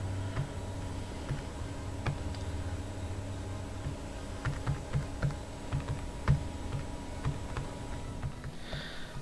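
Typing on a computer keyboard connected through a PS2 input, producing a steady run of close, light key clicks over a constant electronic hum, with no talking.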